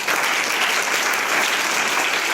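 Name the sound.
applause from schoolchildren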